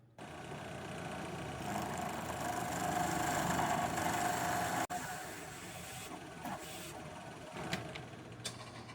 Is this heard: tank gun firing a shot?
no